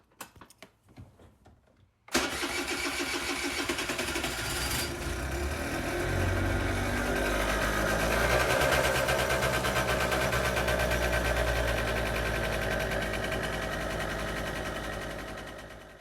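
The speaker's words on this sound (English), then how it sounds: "This sound brings me back to my days of visiting Italy and hearing the Vespas driving around." A Vespa scooter engine running in Italy: after a short near-silent moment, a loud, steady buzzing drone sets in and continues without a break to the end.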